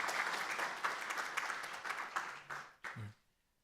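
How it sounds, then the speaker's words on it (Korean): A church congregation at a Sunday morning service applauds a newly arrived member, a soft, dense patter of many hands that fades out after about three seconds, with a brief voice at the end. "박수 하겠습니다"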